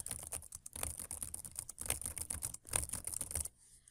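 Rapid, irregular clicking of keys on a computer keyboard, close and fairly quiet, as someone types into a spreadsheet for several seconds before the keystrokes stop.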